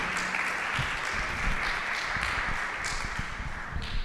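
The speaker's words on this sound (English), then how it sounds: "And please give a warm load of applause to Dr." An audience at a talk on mental health and emotional resilience, applauding speaker Dr. Suzy Ismail with a steady, even round of clapping from many hands throughout.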